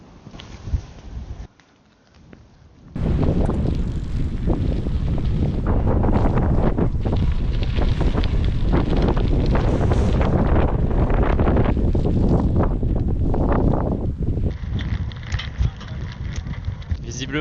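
Strong wind roars and buffets the microphone while riding a gravel bike, a dense, loud rumble that starts abruptly after a few quieter seconds and holds steady to the end.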